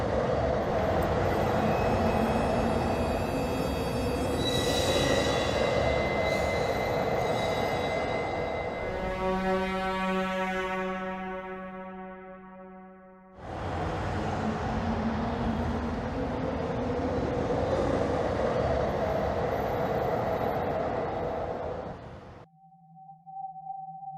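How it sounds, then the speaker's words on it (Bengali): A train rumbles along steadily with a loud, continuous roar and rattling, sharp squealing tones rising midway, briefly dropping, then resuming before a quieter hum. "ট্রেন ছুটে চলেছে একটি অন্ধকার জগতের মধ্য দিয়ে"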